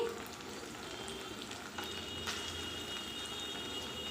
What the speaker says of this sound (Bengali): এই দেখো মাছ ভাজা বসিয়ে দিয়েছি